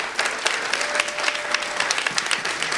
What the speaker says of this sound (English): Could we give one more round of applause for our speaker?